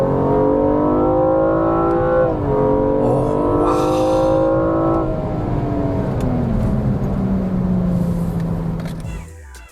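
A BMW M235i F22 coupe engine revs up in stepped pulls, its tone rising and then dropping with each gear change. It begins loud and close, then eases into a lower, fading drone by the end.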